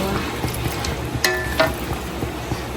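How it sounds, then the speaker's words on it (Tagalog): Chicken caldereta sizzles and fries in a pan, a steady close crackle broken by a few light clinks of a utensil. "Si Milot naman po dito ay nagluluto po ng Chicken caldereta"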